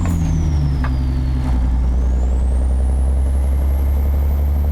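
A Kenworth LW heavy-haul truck pulling a Murray lowboy trailer in American Truck Simulator, with a loud, steady engine drone whose pitch drops and then climbs again through an upshift.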